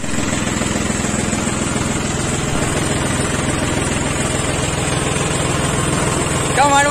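A John Deere tractor hauling a trolley, running with low tyre pressure, gives a steady close engine drone that holds evenly throughout, with a brief rattle near the end.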